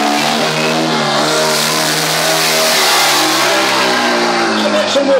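Dragster engine revving loudly and steadily at a stunt show, a strong harmonic roar that holds and climbs slightly across the whole stretch, with crowd or announcer voice partly mixed in.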